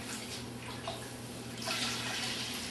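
Water running steadily from a tap into a fresh bucket for cleaning grout off floor tiles, a continuous close splashing rush with no talking.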